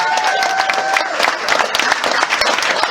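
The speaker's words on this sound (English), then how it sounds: "have a round of applause for all the organising" Wedding guests clap in a sustained round of applause for the day's organising. The clapping is dense and lively throughout, with some faint crowd noise mixed in.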